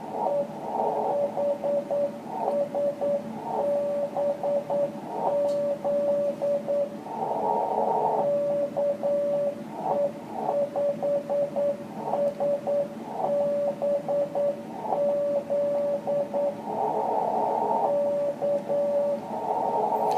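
Morse code CW beeps over a hissing amateur radio band: a steady single tone keyed in rapid dots and dashes, fairly loud, with static underneath.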